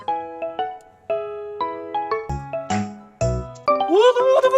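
A KakaoTalk voice call ringing tone: a string of bright chiming electronic notes in a repeating melodic pattern, loud and close, ending in a rising warbled tone.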